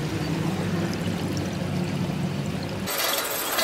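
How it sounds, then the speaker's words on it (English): Water pours steadily into a bag of granite sludge, a continuous splashing rush that shifts abruptly to a brighter, hissier stream near the end, with no talk. "Water running into the bag."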